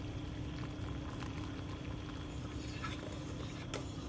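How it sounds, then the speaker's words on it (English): A pot of water boils quietly with a steady, soft bubbling hiss and occasional small pops. "I have prepared a pot of boiling water off camera."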